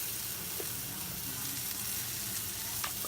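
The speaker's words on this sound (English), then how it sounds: "then we're going to sear it on high heat" A steamed cauliflower steak seasoned with salt and pepper sears in smoking hot oil over high heat, giving a constant close hiss with a few faint clicks and no talking.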